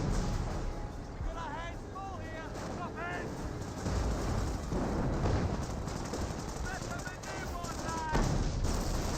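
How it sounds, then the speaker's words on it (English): A grenade bursts amid dense gunfire and battle noise in Company of Heroes 1, a multiplayer replay, with a commentator's voice running over the continuous combat din. "Grenade's been thrown."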